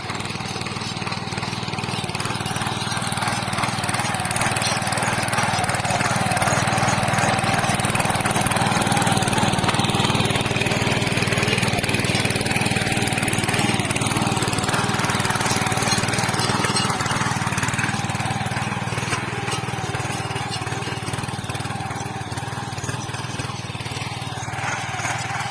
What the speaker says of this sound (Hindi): अब हम तीसरी बार हम इसमें जो है कंपोस्ट खाद मिला रहे हैं पावर ट्रैक्टर के साथ।